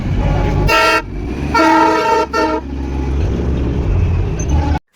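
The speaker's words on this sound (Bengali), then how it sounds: "তো দেখো তার আগে তোমাদেরকে আবার টয় ট্রেনটাও দেখিয়ে দিই।" A Darjeeling toy train near Batasia Loop sounds its horn in three loud, close toots, two long and one short, over a low engine rumble.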